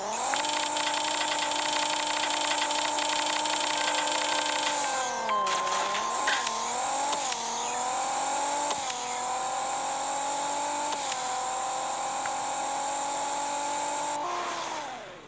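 Honda S2000 engine in the racing game Racing Rivals, a loud, steady high-revving whine that climbs, then drops sharply at each gear shift across the run, with no talking.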